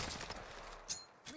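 Rapid bursts of gunfire in Call of Duty Warzone, a quick fusillade of distant shots followed by a couple of sharper cracks, fairly faint.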